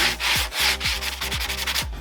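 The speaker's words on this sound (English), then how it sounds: "the other edge, you just take a sanding block" Sanding block rubbed back and forth along a rough plywood edge for a home-school desk, giving loud, close, rhythmic rasping strokes, about eight in two seconds, with no talk.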